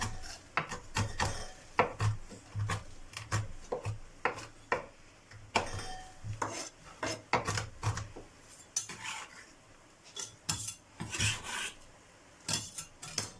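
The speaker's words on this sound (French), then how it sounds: "On les hache grossièrement et on vient les mettre dedans" Almonds are chopped coarsely with a knife on a board, giving irregular bursts of quiet knocks and scraping taps, close and soft, with no talk.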